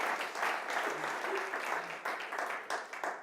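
An audience at a regenerative agriculture talk breaks into steady applause, a dense wash of many hands clapping continuously at moderate volume for a few seconds.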